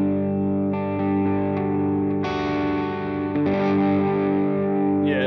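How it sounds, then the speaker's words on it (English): An electric guitar played through reverb in Bias FX on an iPad or iPhone rings out in sustained, distorted chords that bloom and decay, with a new strum cutting in midway and a lingering wash of reverb. "I just like having a little bit of reverb."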